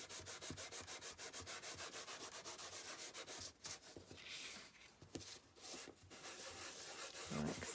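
An embossing buddy is rubbed over card in quick, steady back-and-forth strokes, a soft, close scratchy brushing that continues rhythmically throughout with slight pauses.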